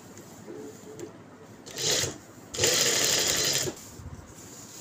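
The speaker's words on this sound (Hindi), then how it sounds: "अब लगाएंगे इसको इस तरह से सिलाई, एक ही सिलाई में हमने पहले प्रेस किया हुआ इसको।" Sewing machine stitching pressed fabric in two steady runs, the second longer and louder, a close whirring rattle over a quiet room hum.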